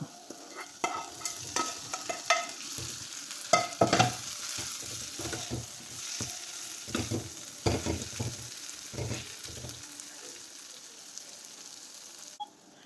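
Mussel biryani masala sautéed in a pan with shallow-fried mussels stirred through it, giving a steady sizzle broken by repeated scraping stirs and clinks of a spoon against the pan, close and fairly loud with no talking.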